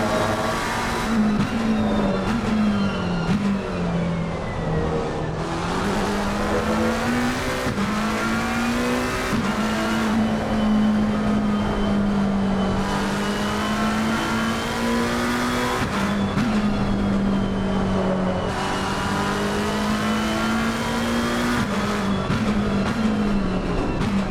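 Race cars from Assetto Corsa Competizione lap Laguna Seca WeatherTech Raceway, a loud continuous engine drone rising and falling through gear changes and revs across the whole stretch, with no voices heard.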